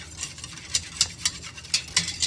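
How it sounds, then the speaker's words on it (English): A whisk beats milk in a pot for homemade Greek yogurt, giving about seven quick, even metallic strokes in a steady rhythm, close up and alone. "You just want to whisk it every now and then."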